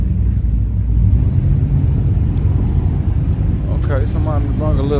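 Ford Mustang Fox Body at a drag racing event, a loud, deep engine rumble that holds steady throughout, with a voice talking over it near the end.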